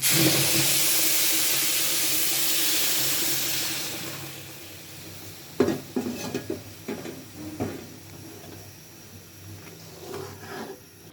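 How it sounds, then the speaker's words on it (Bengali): Water poured into a hot pot of fried rice sets off a loud hissing sizzle that slowly fades, followed by light clinks and stirring sounds from the pot. "চালগুলো খুব ভালোভাবে ভেজে নিলাম। এই পর্যায়ে আমি পানি দিয়ে দেব।"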